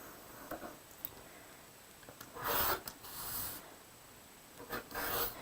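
Quilt block fabric being trimmed at a 45-degree angle, giving soft raspy cutting strokes in short bursts, quiet and close with pauses between cuts.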